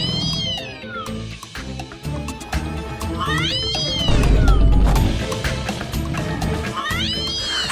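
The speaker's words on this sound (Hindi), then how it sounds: "ये बिल्ली की आवाज कैसे आ रही है?" A mobile phone left on top of a cupboard plays a cat-meow ringtone. Three drawn-out meows repeat at regular intervals over a busy, music-like background.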